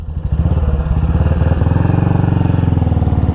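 A BSA Goldstar single-cylinder motorcycle engine under way on a ride, a loud, steady, rapid thumping beat close up that settles into an even rhythm after a rougher start.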